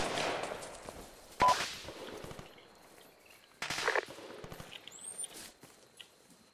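Distant gunfire cracks out during a military field exercise, a few sharp shots and short bursts, fairly faint against outdoor background noise.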